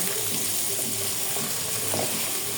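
Country chicken meat braising down in a pan, a steady close sizzle with faint stirring scrapes running through without pause.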